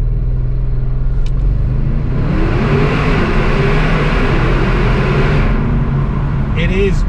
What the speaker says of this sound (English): let's launch this RS2 in the tunnel, just so you can hear it.